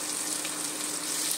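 Onion and tomato sauté with garlic in a pan, making a brief, even sizzle of constant hiss at moderate level with no distinct stirring strokes.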